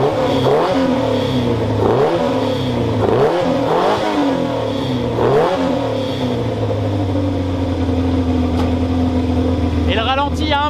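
A Renault 4L with its original engine idles, then revs in several rising bursts before settling back to a steady, slightly high idle, close and loud.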